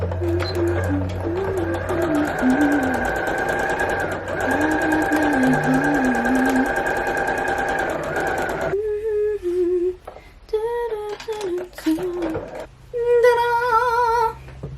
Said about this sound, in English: We're going to stay stitch the neckline and the armhole.